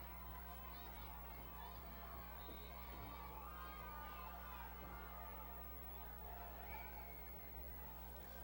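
A crowd in the stands at a 1994 Leuzinger versus Hawthorne high school football game shouts and cheers at a distance, a restless babble with scattered whoops under a steady low hum.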